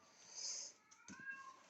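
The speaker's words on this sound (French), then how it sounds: "Ça fait une quinzaine de jours qu'il miaule comme ça." A cat's meows, one repeated vocalisation from a housebound cat that has been meowing like this for about two weeks, heard fairly close and alone, with a brief drawn-out tone followed by a second shorter call.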